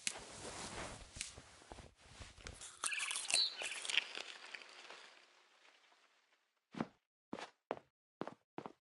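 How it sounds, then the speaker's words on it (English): Barn swallow chirping outside a window in the video game What Remains of Edith Finch: several short, clear chirps in a sparse rhythm after a stretch of soft ambient rustling and footsteps. "Then I heard chirping outside my window. It was a barn swallow going back to her nest."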